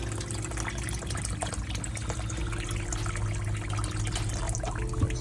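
Water bubbles and trickles steadily through a Venturi fitting in a chest freezer cold plunge, a soft continuous gurgling close by with a faint pump hum underneath.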